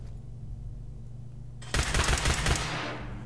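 A laser musket fires in Fallout 4, starting with a sudden crackling burst followed by several rapid, sharp repeated shots over a steady low background hum.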